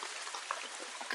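Downpour patters hard on a tarpaulin shelter at a forest campsite, a thick continuous rush of drops with a few louder splats, nearby and unbroken.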